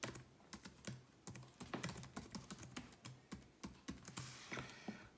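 Login credentials typed on a computer keyboard, a close, quiet run of quick keystrokes in an irregular rhythm with brief pauses, heard alone without talk.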